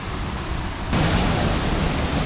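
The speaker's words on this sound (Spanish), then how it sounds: "Esta es la catarata pintada." The Catarata Pintada waterfall in La Fortuna, Costa Rica, gives a steady, dense roar of falling water that grows noticeably louder and fuller after the first second and then holds constant.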